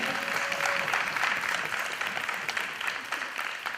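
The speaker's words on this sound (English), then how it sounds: "Give them a round of applause once again." Applause from the audience at a public sector debate competition, a dense, even wash of many hands clapping that fades slightly toward the end, with no voices over it.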